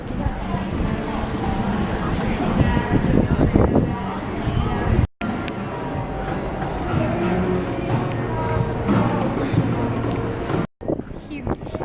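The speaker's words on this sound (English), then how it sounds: "Windy." Steady, roaring wind buffets the microphone throughout, with people talking underneath and a couple of brief dropouts.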